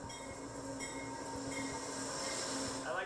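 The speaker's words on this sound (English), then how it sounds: "Hey, yo, train alert!" A train rumbles past in a continuous low roll with faint wheel squeal, heard at moderate distance and fairly quiet, with no talk over it.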